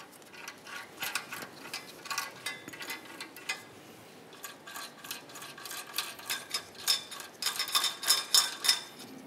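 A ratchet tightens the mounting nuts on the exhaust manifold catalytic converter assembly of a 2009-2010 Pontiac, producing rapid clicking bursts in irregular runs, close up, growing busier and louder toward the end.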